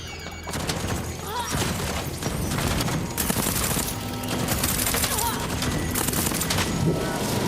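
Turret in The Second Ending firing on enemies, dense bursts of loud repeated shots and booms filling the scene, with game sounds around them.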